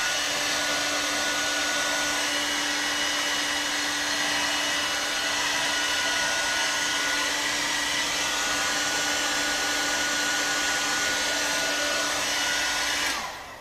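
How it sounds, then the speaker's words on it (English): A hair dryer blows steadily and loudly at close range over a fresh coat of Plasti Dip, a continuous whirring hiss with a steady motor hum that cuts off abruptly at the end. "So we're going to use our hair dryer to make sure it's dry."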